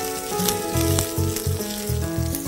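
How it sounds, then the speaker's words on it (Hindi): Finely chopped ginger and garlic sizzle and fry in a pan, a close, loud crackling hiss with scattered pops and no talking, while background music plays. "इसको आप हल्का सा भून लें अदरक और लहसुन को"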